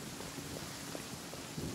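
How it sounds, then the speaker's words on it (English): Rain falls in a video game world, a steady broadband hiss of drops with a few soft patters, continuous and fairly faint, with no talk over it. "It's only here that's raining."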